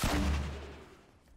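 A loud, booming gunshot from the video game Fortnite, with a heavy low thump and a long decaying tail, standing alone.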